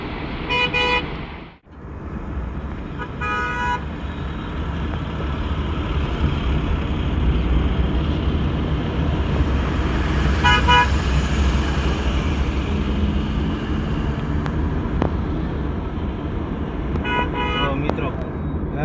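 Busy road traffic on the Morbi to Chotila route among trucks, with a continuous roar of passing vehicles and repeated horn toots, a sharp blast near the start and more honks later, while a person talks over it.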